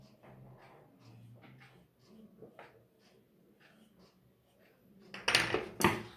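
Scissors cutting the back neck of a sudithar fabric: two sharp, close snipping crunches near the end, after a stretch of faint rustling and soft talk at low volume.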